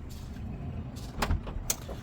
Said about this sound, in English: So I'm just going to pull that handle just to show you the door closing.